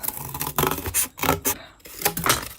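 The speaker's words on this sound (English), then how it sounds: "So what you want to do is use your scissors." Scissors snipping and rasping through paper in several short cuts, close and moderately loud, with brief pauses between strokes.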